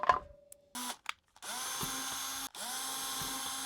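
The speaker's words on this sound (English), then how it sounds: "up about 1/2 inch above that screw, I'm going to drill another hole" A power drill bores a hole in wood beside a screw while building a challenge coin memorial display box, with brief starts and stops, then two long, loud, steady whirring runs separated by a short pause.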